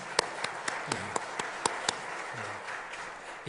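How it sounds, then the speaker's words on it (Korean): A church congregation at a Sunday worship service in Pyeongchang claps in blessing of a newly married family, a light, fairly even run of distinct hand claps, moderately close, with a faint voice briefly underneath. "우리 인사하실 때 박수로 축복해 주시겠습니다"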